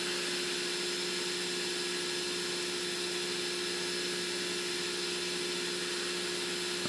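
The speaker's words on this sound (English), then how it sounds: "it's going to automatically feed the filament through for us, which it is currently doing" A Creality Sermoon V1 Pro 3D printer feeds filament automatically while its nozzle heats toward 240 degrees, giving off a steady, even motorized whir with a constant tonal hum, continuous and unbroken, with no talk.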